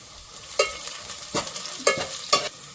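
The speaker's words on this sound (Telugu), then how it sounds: "పచ్చివాసన పోయేంత వరకు చక్కగా వేయించుకుందాం." Onions and green chilies frying for vegetable biryani, with a few distinct bursts of sizzle and stirring scrapes spaced across a quiet, low-level background.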